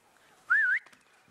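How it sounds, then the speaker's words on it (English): A single short whistled phrase rises and dips in a clear, bright tone, sounding alone and fairly near against a quiet background. "sounds like someone else is whistling"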